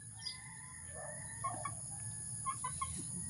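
Chickens near a rice field give short, scattered clucks over a quiet, hissy background, several soft calls coming at uneven intervals.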